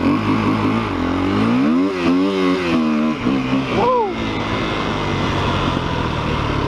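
A 2008 KTM EXC-F 250cc dirt bike ridden off-road through woods, its engine droning steadily and rising and falling in pitch as the rider works the throttle, with a voice speaking over it.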